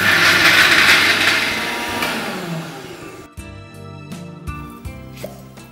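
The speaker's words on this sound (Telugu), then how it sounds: "ఇప్పుడు వీటిని మనం గ్రైండ్ చేయాలి." Mixer grinder whirring loudly as it grinds cashews into a paste for fish gravy, a dense steady roar that winds down after a few seconds into clattering kitchen sounds.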